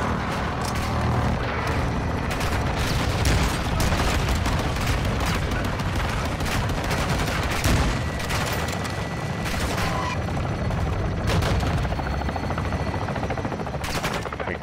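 Steady combat noise in the Modern Warfare 2 campaign: dense gunfire and booming impacts run continuously under a droning rotor-like rumble, loud and unbroken throughout.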